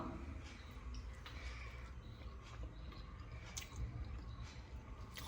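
Close, soft chewing of boiled tapioca with kanthari chicken and chutney: quiet wet squishing and biting sounds repeating irregularly against faint background hum.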